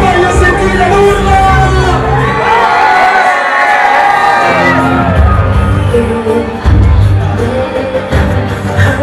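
Large crowd in a town square at a summer foam party event, loud continuous cheering, whooping and shouting with voices layered throughout, swelling and dipping but never stopping.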